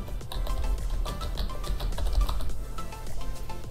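Typing on a computer keyboard, with a fast, uneven run of close, crisp key taps over a low background hum.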